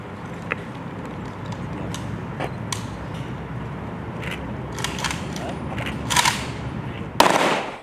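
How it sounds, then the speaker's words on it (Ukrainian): A series of distant ceremonial gunshots rings out in uneven bursts over crowd murmur and outdoor ambience at a memorial unveiling for Ukraine's defenders in Zaporizhzhia, with one louder crack near the end. "Далі на честь військових пролунали постріли."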